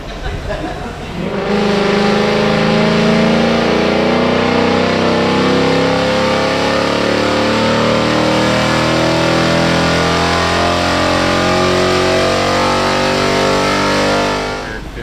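A 2016 Ford Mustang GT V8 climbs steadily through the revs on a chassis dyno, a loud, sustained engine roar rising in pitch for about twelve seconds before cutting off abruptly, heard close.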